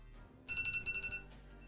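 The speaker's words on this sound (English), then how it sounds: "Oh, that's a timer." A timer alarm gives a faint, brief burst of rapid electronic ringing that lasts under a second against quiet room noise.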